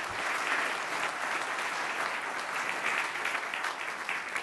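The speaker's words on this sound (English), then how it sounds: "Round of applause, please." Steady applause from a symposium audience, a continuous wash of clapping that holds at an even level throughout.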